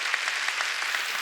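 Applause rises from a congregation during a Korean church service, a brief, even patter of many hands clapping at moderate loudness with no talk over it.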